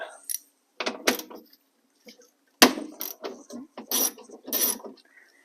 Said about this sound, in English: it's kind of the same setup: 10mm socket, extension, and 1/4" ratchet